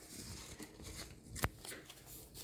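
Paper is being folded by hand for an origami cannon mini car, soft crinkling and rustling with one sharper crease snap near the middle, quiet and close.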